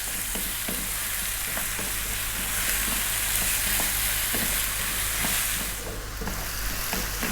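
Beetroot lentil stew bubbles and sizzles in a pan over lively heat, a loud, constant frying hiss with light stirring clicks and scrapes throughout, no voices.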